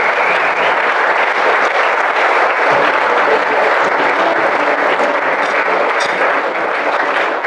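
Loud, dense audience applause fills a BMX Hall of Fame awards ceremony, a steady sustained roar of clapping that carries on without a break and no voices standing out above it.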